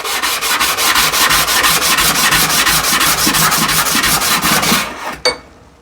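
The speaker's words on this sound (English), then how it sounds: "So sanding pad on the drill." A sanding pad on a drill rubs against a turned wood piece, giving a loud, close, continuous rasping hiss with a fast rhythmic pulse, then stopping abruptly near the end.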